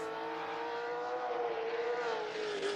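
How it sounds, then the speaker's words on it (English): Historic racing car engines, including a Ford GT40, roar steadily in a sim race at Bridgehampton, with a high, rising whine, loud and continuous throughout. "Yeah, the cars are loud."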